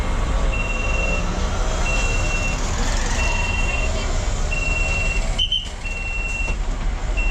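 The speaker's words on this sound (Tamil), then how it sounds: "இப்போது மதுரவாயில் இருந்தும் பஸ்ஸு ஸ்டார்ட் ஆகிடுச்சுங்க" An MTC city bus pulls away from the Maduravoyal bus stop: a low, continuous engine rumble with a regularly repeating electronic beep riding over it, heard from inside the bus.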